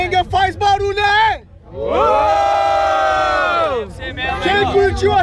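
At a rap battle event, the crowd roars, cheers and shouts loudly. Scattered shouts lead into a long, sustained collective yell that swells and then breaks into whoops and chatter.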